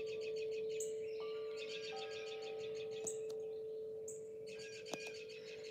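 Songbirds chirp and tweet outdoors in repeated short bursts of bright calls, with several overlapping voices, while a steady ringing tone holds underneath the whole time.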